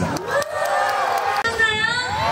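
A concert crowd at a K-culture expo cheers and shouts loudly, with high excited screams and whoops rising and falling over steady crowd noise and little clapping.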